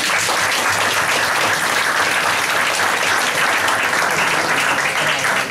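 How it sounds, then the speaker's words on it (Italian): A room of listeners gives sustained, dense applause at a book presentation in an exhibition and conference hall. The clapping is loud and even throughout, with no talk over it. "quindi penso che meriti un applauso"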